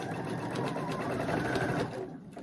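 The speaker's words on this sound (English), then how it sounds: "All right, now we're just going to start stitching. Do a little reverse." A sewing machine stitches a t-shirt with a steady, fast mechanical whir and rapid needle ticking, heard close and continuous before it slows near the end.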